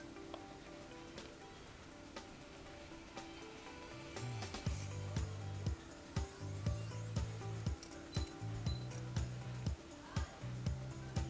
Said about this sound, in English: I will have to trim off the seam allowance I have here.